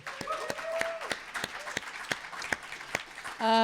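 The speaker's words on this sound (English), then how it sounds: "And I would just like a round of applause for Kevin right now." A conference audience gives brief applause at a keynote on gay American history, sparse scattered claps rising into a steadier patter, with a short burst of other sound at the very end.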